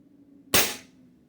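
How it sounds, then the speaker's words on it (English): A single sharp crack from a Diana .22 air rifle fitted with a Buck-Rail kit, close and loud against a quiet background, with a short decaying tail. "This would be the 3rd shot, I do believe."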